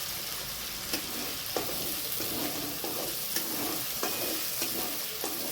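Peanut gravy for a paneer curry stirred in a pan over a steady, dense sizzle, with regular spatula strokes about every half second, close by.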